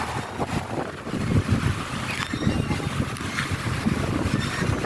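Strong wind rushing and buffeting the microphone outdoors, a continuous roaring gust with faint voices underneath.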